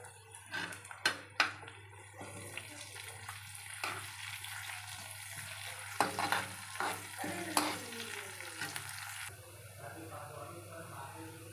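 Red lentils and curry leaves go into onions already fried in a pan, with a soft sizzle and a run of spoon clicks and scrapes as they are stirred, quiet and close, settling into a faint hiss toward the end.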